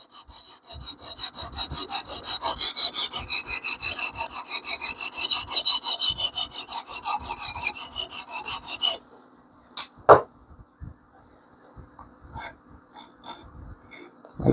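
Damascus steel knife blade drawn across a sharpening stone in steady rhythmic rasping strokes, close and loud for about nine seconds, then a few isolated scrapes and knocks.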